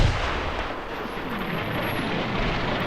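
Heavy gunfire and artillery-like blasts in the Combat Mission wargame, set in the Market Garden campaign, form a dense, continuous roar of shots and rumbling impacts that carries loudly and steadily without pause.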